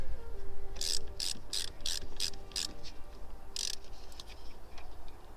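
Ratchet tightening a 10mm bolt on a Land Rover Freelander 2 earth cable: a run of six quick clicking strokes, a pause, then one more stroke, faint against a quiet background.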